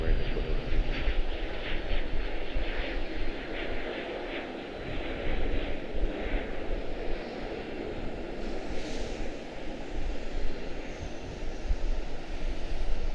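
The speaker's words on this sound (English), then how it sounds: "Citation CJ3 to Nashville" Cessna Citation CJ3 business jet departing Charlotte Douglas for Nashville, a steady moderate engine roar with some wavering, a voice talking over it in places.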